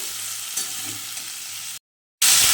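Beetroot and carrot pieces sizzle and are stirred in a pan, a steady close frying hiss with faint scraping that breaks off into a brief silence before the hiss returns loudly.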